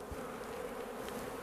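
A steady, close hum of honey bees buzzing together, brief and unbroken.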